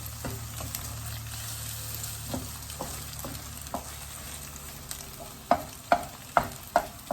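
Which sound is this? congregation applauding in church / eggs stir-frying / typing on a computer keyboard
eggs stir-frying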